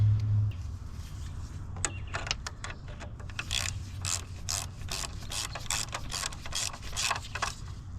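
A bolt is screwed back in during vacuum pump replacement on a VW Tiguan, a close series of quick ratcheting clicks in an irregular rhythm over a low background hum.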